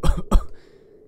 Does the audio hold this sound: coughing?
yes